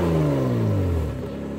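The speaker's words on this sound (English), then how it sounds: "Give her a rev, bruh. Cold start" Car engine on a cold start revving high and then falling back toward idle, a loud close roar with a descending pitch that settles into a steady rumble.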